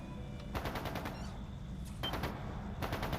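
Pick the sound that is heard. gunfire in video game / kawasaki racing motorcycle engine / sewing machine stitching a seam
gunfire in video game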